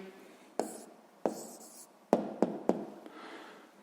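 Pen writing down a math answer on paper, a few quick scratchy strokes and taps in a quiet room, no talking.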